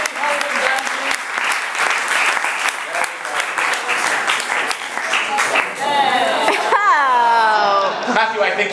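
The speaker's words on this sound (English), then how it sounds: "a round of applause for our" An audience bursts into sustained, loud applause of dense clapping with some chatter and laughter mixed in, before the clapping thins near the end.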